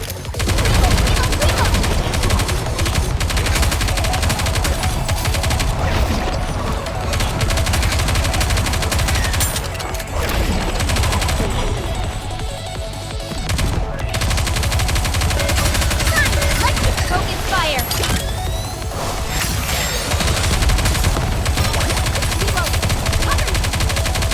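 Rapid gunfire from the PC shooter NIKKE: Goddess of Victory, a dense loud fusillade of automatic shots rolling nearly nonstop with brief dips, mixed with game music and occasional character voice lines.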